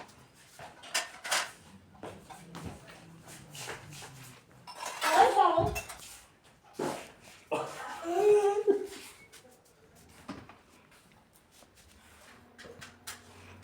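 Dishes and utensils handled and set down in a village home kitchen, clattering and clinking in scattered bursts, louder mid-way, with speech between.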